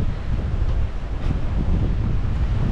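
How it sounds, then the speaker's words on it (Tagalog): Steady wind buffeting the microphone on a Boracay beach, a continuous low rumbling roar with faint surf-like hiss beneath, loud and unbroken, with no voices. "Mahangin lang siya today"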